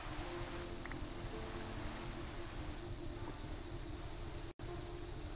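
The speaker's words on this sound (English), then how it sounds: "of course it's raining." Steady, broad hiss of rain falling in the Minecraft video game, continuous and even with a brief dropout near the end, no voices over it.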